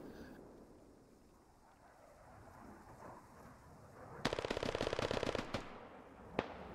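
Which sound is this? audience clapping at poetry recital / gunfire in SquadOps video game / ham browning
gunfire in SquadOps video game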